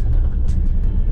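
An Audi Q8 driving, heard as a steady, loud low rumble of engine and road noise from inside or close by, with a few brief brighter hisses on top.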